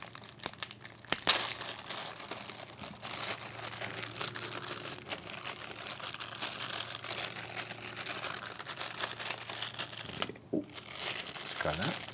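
Plastic packaging of a 2012 Fujifilm XP50 compact camera being opened, continuous close crinkling and crumpling with a few sharper rustles.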